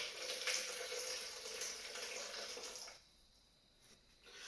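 Boiling water pours steadily into a measuring jug for about three seconds, then stops, leaving quiet room tone with a faint trickle.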